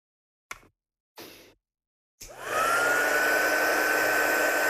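A heat gun starts up after a couple of short clicks and rises into a steady, loud blowing roar with a high whine, held close by while heat setting a stamped watercolour card.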